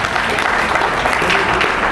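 A comedy-club audience breaks into loud, close applause, a thick continuous rush of clapping with some crowd noise mixed in, holding steady for the whole moment.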